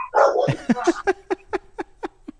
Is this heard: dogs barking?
yes